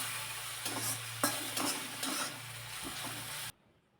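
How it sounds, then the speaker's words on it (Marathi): Chopped tomatoes with a pinch of salt sauté in a pan, a close, steady sizzle with a few stirring scrapes, then the sound cuts off abruptly near the end. "चिरलेला टोमॅटो घालून चांगलं हे परतून घ्यायचं आहे"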